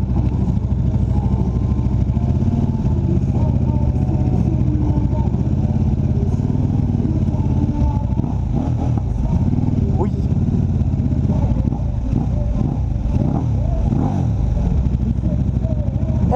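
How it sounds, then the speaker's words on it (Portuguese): A KTM RC8 1190 sport motorcycle fitted with an Akrapovic race exhaust runs close by, its engine note rising and falling in a few throttle blips against a steady rumble, with voices talking nearby. "É monstro a moto, é monstro."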